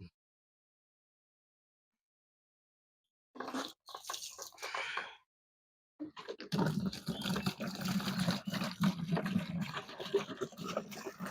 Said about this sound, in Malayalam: ഇത് കറക്റ്റ് അങ്ങ് ഒഴിച്ച് ഇതിനകത്തോട്ട് മിക്സ് ചെയ്ത് എടുത്തേച്ചാൽ മതി